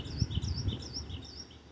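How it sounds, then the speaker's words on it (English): Small birds chirp outdoors in repeated short, bright calls, fairly steady and moderately close, over a low rumble of background noise such as passing traffic. "There's the bird that flew off."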